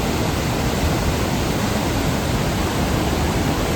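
Attukad waterfall at Pallivasal in Idukki roars with a dense, steady rush of falling water, loud and close, with no break or other sound.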